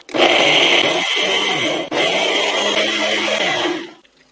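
A kitchen blender grinds flour paste with plum syrup for cucumber kimchi, a loud steady whirring that cuts out for an instant midway, restarts, then stops shortly before the end.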